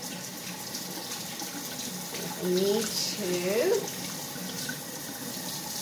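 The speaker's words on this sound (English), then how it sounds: "I'm gonna switch this over to hot water, and I'm gonna run this out of here" Hot water runs steadily from a kitchen tap into a sink, a constant hiss throughout with a brief voice speaking over it midway.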